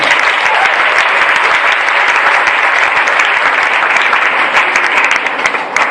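A church congregation applauds loudly and continuously during a worship service, dense close clapping from many hands held at a steady level throughout.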